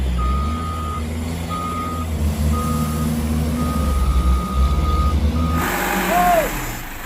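A toy sand truck gives off a series of evenly spaced electronic reversing beeps over a steady low rumble, followed by a brief whistle-like sweep near the end.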